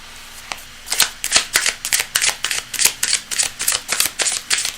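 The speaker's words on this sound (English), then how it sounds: "I'm going to shuffle this and cut this again" A deck of tarot cards is shuffled in quick, rhythmic riffles, a steady run of close, crisp papery bursts repeating over several seconds with no talk.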